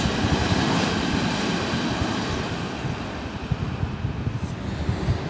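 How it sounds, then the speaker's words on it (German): An S-Bahn train bound for Bernau passes near the Dresdner Bahn works at Marienfelde, Berlin, a steady, loud broadband rumble sustained throughout with wind buffeting the microphone. "das ist ein Zug nach Bernau"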